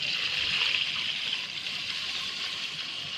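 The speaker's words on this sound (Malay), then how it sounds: "Dan kita masukkan air." Water is poured into a rice cooker pot of rice for Arab kabsa, producing a steady hissing, splashing stream that is close and fairly loud, running continuously and easing off slightly toward the end.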